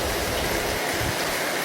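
Steady rain pouring down outdoors, a dense continuous hiss with no voices over it.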